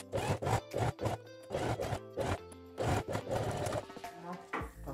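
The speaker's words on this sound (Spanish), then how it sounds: "Y le vamos a pasar una costura por todo el largo" Sewing machine running a seam along the length of a toiletry bag, sounding in short rapid bursts with brief pauses between them, close and fairly quiet, with a voice speaking over it.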